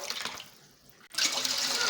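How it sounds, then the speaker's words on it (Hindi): Water splashes into a cooking pot from a tap for boiling soaked rice, a gushing pour that pauses briefly and then resumes stronger, close and fairly quiet with no voices. "अब मैं बॉईल करने के लिए चावल के लिए पानी इसमें शामिल कर रही हूँ।"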